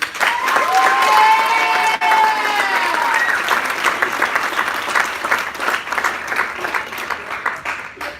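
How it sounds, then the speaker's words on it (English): Lively audience applause in a public speaking session, loud and dense from the start with whoops and shouts on top, settling into steady clapping that tapers slightly toward the end. "We give Gigi a round of applause."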